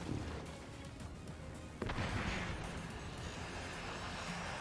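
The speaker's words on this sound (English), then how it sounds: "We should see Cloud take some cannon hits now." Cannon fire in a multiplayer video game match: a steady roar of battle noise with a sudden sharp boom about two seconds in, followed by continued rumbling blasts.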